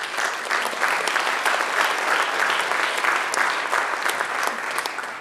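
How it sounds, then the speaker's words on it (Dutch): An audience breaks into steady, sustained applause at an event where artists joined strike pickets, the dense clapping filling the whole stretch evenly and fairly close without any speech over it. "Een applaus graag voor Han Soete"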